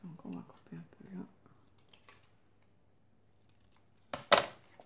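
Scissors cut into a sheet of A4 paper for a mini flipbook, a short sharp snip near the end following a woman's brief speech and quiet handling rustles.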